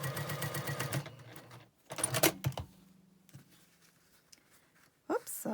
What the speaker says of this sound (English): You sew right across the tip.